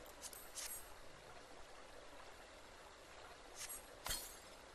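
Water filling a tub at a water source in Final Fantasy XIV makes a steady, quiet rushing hiss throughout, with a few brief splashy bursts near the start and end. No voices are heard.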